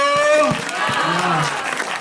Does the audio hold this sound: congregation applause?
yes